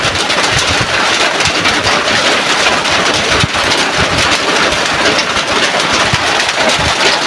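Heavy storm rain pouring steadily as a dense, loud, unbroken roar with no pauses.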